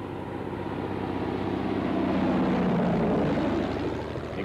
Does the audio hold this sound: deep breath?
no